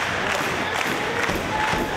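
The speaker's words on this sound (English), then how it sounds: "Crowd getting into this one here." A wrestling crowd cheers and roars continuously at an indoor pro wrestling match, a dense, loud wash of voices with brief swells of shouting.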